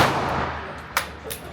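Smith & Wesson Bodyguard 2.0 pistol fired at a gun range: two sharp, cracking reports about a third of a second apart, close and loud over a dull outdoor background.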